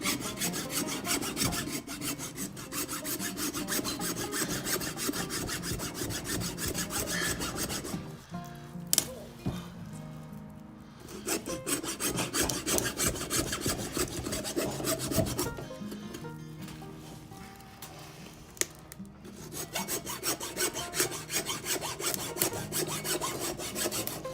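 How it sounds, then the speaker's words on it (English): A hacksaw cuts through deer bone during home butchering, with steady rasping back-and-forth strokes that run loud and close, break off for a few seconds near the middle, then start up again. "So I'll take my hacksaw here"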